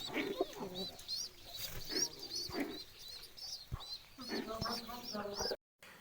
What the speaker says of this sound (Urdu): یہ کبوتروں کا کمرہ ہے جی